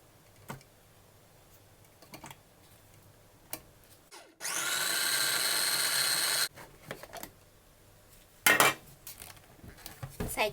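A blender grinds baked sponge cake into fine crumbs. Its motor roars in one steady burst of about two seconds, with scattered kitchen clinks and clatter before and after.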